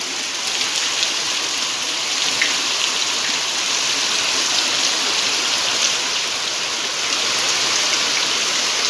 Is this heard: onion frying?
no